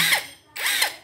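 Two short bursts of an APR AP127 electric impact wrench whirring close by, separated by a brief pause.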